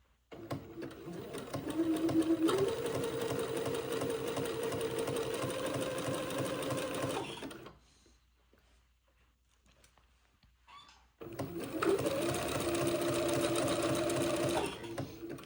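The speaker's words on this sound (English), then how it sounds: "When I get to this top peak of the first scallop, I will pivot and continue zigzagging." A sewing machine zigzag-stitches insertion lace along scalloped edges of a baby diaper shirt, running in a steady buzzing burst, falling silent for a few seconds, then starting up again close by with no voices.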